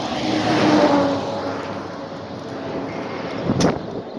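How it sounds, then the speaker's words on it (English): A car drives past outdoors, a broad rushing swell that rises and fades over a few seconds, with a brief sharper whoosh near the end and no talk. "Let this car pass."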